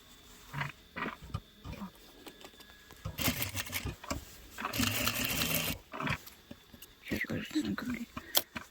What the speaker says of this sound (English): I will make just top stitch on the sewing machine.